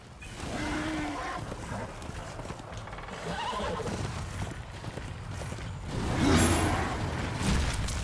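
Horse in the video game Darksiders II whinnies several times over steady clip-clopping hooves and creaking game ambience, fairly loud and continuous with a louder neigh near the end.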